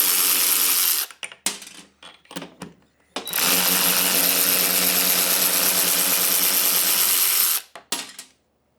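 A Ryobi 3/8 inch cordless power ratchet whirs loudly up close in several bursts, a short run, a few brief stuttering pulses, then a long steady spin before stopping, with no talking.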